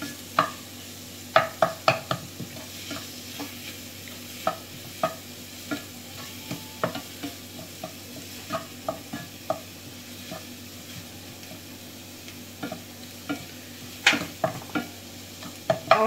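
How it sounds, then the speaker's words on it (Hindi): A spoon stirring and mixing a vegetable paneer stuffing with chopped coriander in a pan on the stove, giving irregular scraping clicks and knocks over a faint steady background hum, with no talking. "इसमें जो हमने धनिया काटा था वो भी डाल के अच्छे से मिला देंगे"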